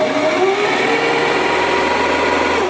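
A sewing machine winds thread onto a bobbin with a steady, high-pitched whir that runs close and constant throughout.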